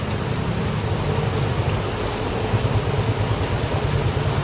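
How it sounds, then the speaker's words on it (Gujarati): Heavy rain falling steadily outdoors at the Alang shipbreaking yard, a dense continuous roar of drops hitting surfaces, loud and close with no voices. "વરસાદ આવે છે."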